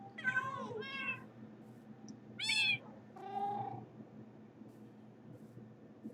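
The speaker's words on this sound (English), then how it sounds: "Loud cats." Several loud, close cat meows in quick succession, some higher and drawn out, with pauses between them against a low steady background hum.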